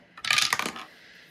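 A pair of six-sided dice clatter and tumble during a Shut the Box game, one short bright rattle lasting well under a second before settling into quiet.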